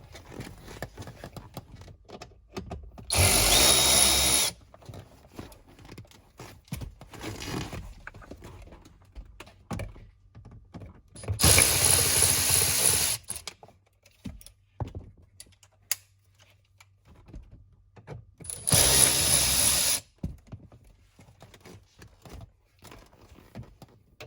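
A driver turning out bolts during knee airbag removal on a 2012 BMW 5 Series interior: three loud, close bursts of whirring or rattling, each one to two seconds long, spread across long quiet stretches with faint handling noises.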